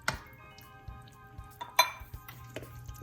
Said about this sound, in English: Get this stirred up nicely.